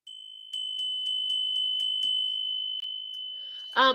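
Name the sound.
bell being tapped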